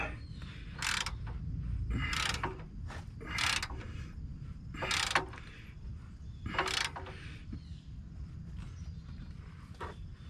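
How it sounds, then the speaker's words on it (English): A hand ratchet tightens the donut gasket bolts on the catalytic converter of a 2011 Nissan Altima 2.5, giving several short clicking bursts spaced irregularly over a low background rumble, close and moderately loud. "I'm just tightening down, trying to snug that donut gasket down here"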